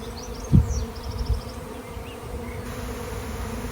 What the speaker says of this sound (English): So we are right in the middle of this swarm. If I pan around, there's bees all around me, 360 degrees.